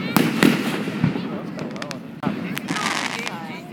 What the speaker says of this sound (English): I love fireworks, especially the scary ones.